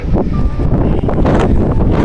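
Gusty, cold wind roars steadily against the microphone in the hills of Rolpa, Nepal, a loud, rough rushing noise with no voices.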